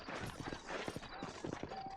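Horse hooves clip-clop at a steady walking pace in the Red Dead Redemption video game, set in a frontier town. The hoofbeats are moderately close and muffled under a soft wash of ambient game noise.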